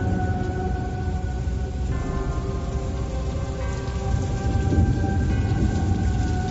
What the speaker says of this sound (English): was a dark and stormy night